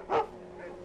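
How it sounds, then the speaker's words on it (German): A dog gives a single short bark in the video game Alan Wake Remastered, fairly faint, followed by a quieter trailing sound. "Oh, ein Hund."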